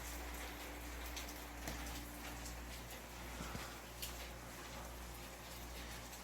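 Steady rain falls outdoors with a constant soft hiss and scattered drips and ticks landing on surfaces. It sounds faint and even throughout, with no voices.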